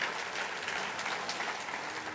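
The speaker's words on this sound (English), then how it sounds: "Give these kids a nice round of applause, because each year they're here and they do such a marvelous job." Steady applause from an audience at a Veterans Day celebration in Anaheim, clapping for a school concert choir; dense, continuous clapping throughout with no voices over it.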